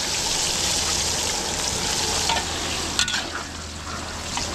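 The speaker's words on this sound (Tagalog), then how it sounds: "Ay, nagpiprito na siya ngayon si Jepoy." Kare-kare ingredients fry in a pan with a loud, steady sizzle and occasional stirring scrapes, close and continuous throughout.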